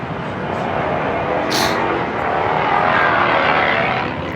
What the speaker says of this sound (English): That's basically what a drone is.